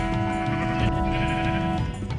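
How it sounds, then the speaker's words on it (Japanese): Sheep in the Minecraft video game bleat in a loud, close, wavering call that holds steady for about two seconds with no talk over it. "今いる羊は30頭だと判明しました。"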